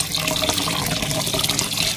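A tap runs steadily into a bowl of rice being washed for Thai mango sticky rice, a loud, close, continuous rushing splash with no voices.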